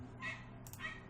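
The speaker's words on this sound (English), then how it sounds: "Apologies if you can hear a dog barking in the background." Two short, faint dog yips or barks sound a moment apart, distant and quiet over a low background hum.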